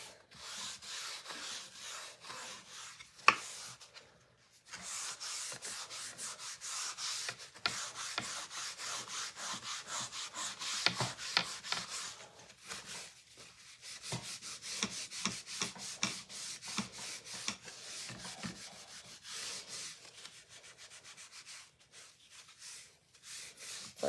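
Wax is rubbed by hand onto a wooden sign in long, repeated scraping strokes. The close, soft, dry friction comes in bursts separated by brief pauses, with no voices.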